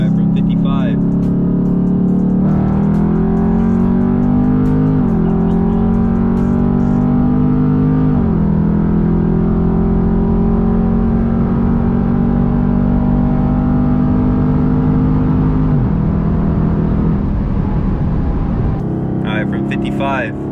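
A Dodge Charger 392 Scat Pack accelerates hard from 55 mph in a 60 to 130 run, its loud engine roaring steadily upward through several gear shifts, heard from inside the car, with a voice speaking over it near the end.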